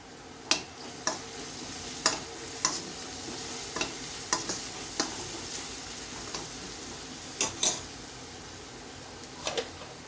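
Turmeric and spices tempering in hot oil in a home kitchen, a steady soft sizzle with a scatter of sharp spoon clicks and stirring taps spread through it, close and moderately quiet, no voices.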